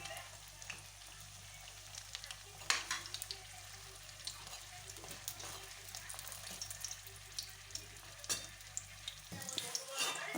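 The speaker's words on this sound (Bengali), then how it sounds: "এখানে আমি মিডিয়াম আঁচে রেখে এগুলো ভাজছি।" Bombay chili fritters fry in oil over medium heat, giving a steady broadband sizzle with occasional louder crackles and pops; the sizzle cuts out near the end.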